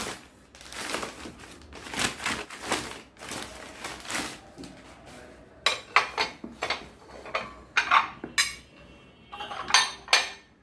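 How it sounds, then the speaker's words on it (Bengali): Small decorative display plates bought from Aarong, one pierced with a hole for wall hanging, being handled and set down, giving a run of close ceramic clinks and knocks, some sharp and bright, with brief rustling between. "আড়ং থেকে আমি আসলে কয়েকটি প্লেট নিয়েছি যেগুলি হচ্ছে ডিসপ্লে প্লেট"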